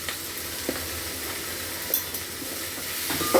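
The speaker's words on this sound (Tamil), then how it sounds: "உப்பு போட்டாக்கா வெங்காயம் சீக்கிரம் வதங்கும், அதுக்காக." Onions sautéing with salt in a pan for kichadi, a steady close sizzle with occasional stirring scrapes, no voices.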